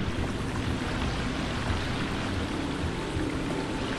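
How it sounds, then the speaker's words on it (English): Running water echoes through a cave in the survival game The Forest, a continuous broadband rushing wash at steady moderate loudness, with no speech over it. "I can hear running water."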